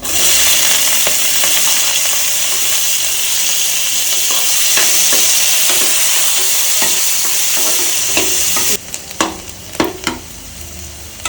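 Loud, steady sizzling of chopped onions frying in a pan, followed by a few scraping, clattering stirs near the end.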